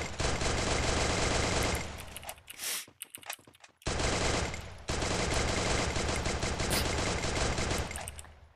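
Rapid automatic gunfire rattles through a two-player shooter video game match, in loud sustained bursts that break off briefly in the middle before resuming, with no talk over it.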